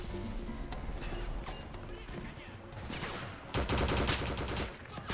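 Rapid SMG gunfire in the online shooter Enlisted, dense bursts of automatic fire layered over a busy battle mix with other shots and explosions, loud and continuous.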